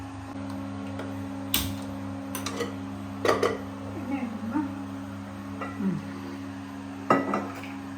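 A metal cooking pot is picked up and handled in a home kitchen while a gourd curry is being prepared, with several sharp clanks and scrapes over a low steady hum.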